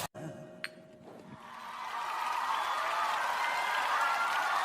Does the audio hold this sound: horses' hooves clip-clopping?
no